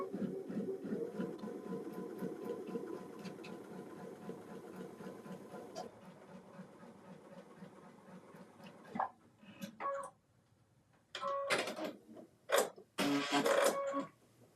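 A sewing machine runs while attaching binding to a quilt, a steady mechanical whir that fades, then a few short loud bursts of stitching near the end.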